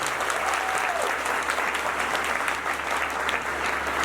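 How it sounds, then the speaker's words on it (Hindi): A large crowd at a company cheque celebration event claps loudly and continuously, a thick even wash of applause filling the room with no pause, a faint voice briefly audible beneath. "इन सब के लिए एक बार जोरदार तालियां दें दोस्तों"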